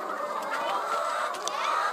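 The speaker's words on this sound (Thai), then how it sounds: "ตอนนี้ไก่กำลังไข่นะคะ กำลังเก็บไข่อยู่" Laying hens cluck steadily and close by in a coop as eggs are gathered, a continuous soft chorus of hen calls with no talk.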